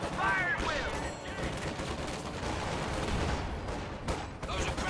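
Dense gunfire and machine-gun bursts in a war strategy game battle, loud and continuous with cracking shots overhead, while someone talks over the din.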